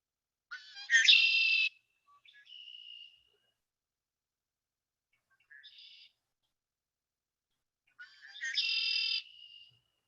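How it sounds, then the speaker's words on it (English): Red-winged blackbird call played back through a phone birding app: two loud buzzy conk-la-ree phrases several seconds apart, with softer shorter notes between, otherwise silent. "So I can only guess that it is a red-winged blackbird."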